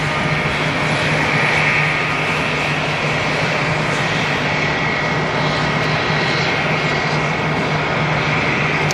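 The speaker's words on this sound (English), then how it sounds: "Next on takeoff, we're going to have a 767, November 176 DZ to Bogota." A 24-year-old Boeing 767 taking off from Atlanta's airport bound for Bogota, heard as a loud, steady jet-engine roar that holds throughout with no talking.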